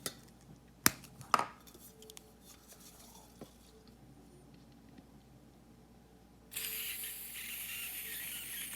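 A cigar lighter being filled with gas: a few sharp clicks and taps of the canister against the lighter, then a steady close hiss of gas flowing in for the last couple of seconds.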